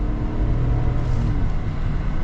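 A 2022 Chevy Tahoe Midnight Edition with its 5.3-litre V8 gives a steady, loud low rumble that holds even and continuous without pauses, with no voices over it.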